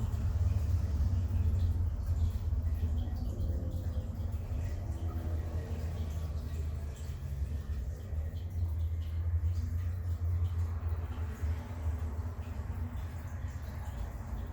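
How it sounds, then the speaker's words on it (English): Distant road traffic from a nearby street forms a steady low rumble that runs unbroken under a quiet indoor yoga session, with no voices. "Hear a little bit of traffic in the background."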